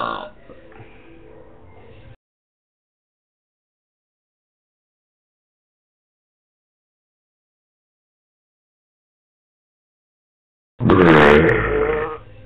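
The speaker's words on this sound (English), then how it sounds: "This has been Belching Part 6" A man lets out a loud, deep belch near the end after a long silence, preceded by a shorter, quieter vocal sound at the start.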